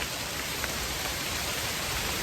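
Steady rain falling outdoors during mushroom gathering, a continuous even hiss of drops on surfaces, fairly close and moderate in level, with no voices.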